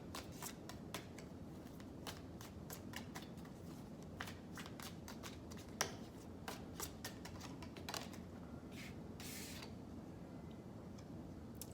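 Tea leaf oracle cards are shuffled by hand close up, a quick run of crisp riffles and soft slaps repeating irregularly against a quiet background.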